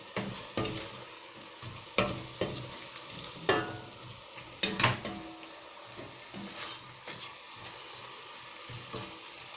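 Potatoes for an olive and potato tajine sizzle in hot oil under a steady frying hiss. Sharp scrapes and clacks from stirring come in irregular bursts, then the sound settles into quieter sizzling.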